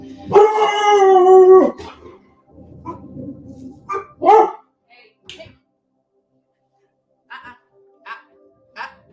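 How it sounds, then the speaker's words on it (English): Dogs outdoors give a loud, sustained howl lasting a couple of seconds, followed by quieter scattered barks and yips spaced out over the next several seconds. "I see dogs out there too."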